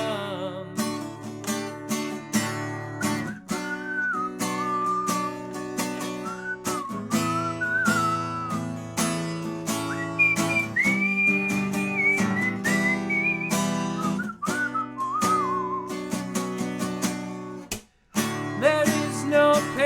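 A person whistles a song's solo melody over loud backing music, the clear, sustained tones gliding between pitches for most of the passage, with one brief silent break near the end.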